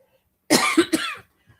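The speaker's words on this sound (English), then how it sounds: "I don't know why I'm coughing all of a sudden." A couple of close, rough coughs in quick succession, fairly loud, with a short pause afterward and no talking.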